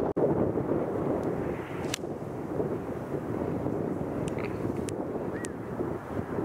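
Steady wind blowing across a golf course, a broad rushing roar buffeting the microphone, continuous and fairly loud with a few faint clicks, no talk.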